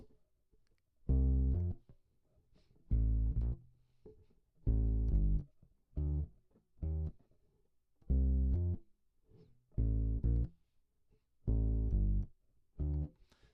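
A single melodic instrument plays the opening of the bridge of a song: clean, sustained notes in a short-long alternating rhythm with brief pauses between them, close and alone.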